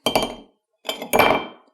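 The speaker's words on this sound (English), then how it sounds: "And we're gonna put in one big ice cube." A single large ice cube dropped into a rocks glass for an Old Fashioned-style cocktail: a sharp glassy clink, a brief pause, then two more bright knocks as the cube settles, close and clear with no talking.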